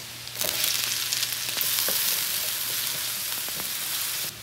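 Garlic and onion sautéing in hot oil as a base for saucy pork ribs, a dense close crackling sizzle with a few stirring knocks, cutting off abruptly at the end.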